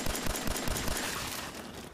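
Rapid gunfire in the post-apocalyptic game Fallout 4, a fast rhythmic burst of shots close and loud that gradually thins out over under two seconds.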